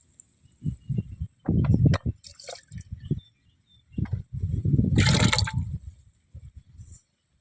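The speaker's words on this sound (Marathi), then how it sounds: "जास्त जरा पाणी घालते शिजण्यासाठी." Water is poured into a heated pot of soaked wheat on a traditional wood-fired stove during rain, making irregular close splashes and gurgles in short bursts, with a brighter gush near the middle.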